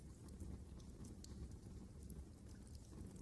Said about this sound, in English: Do you hear the rain pounding the windows here?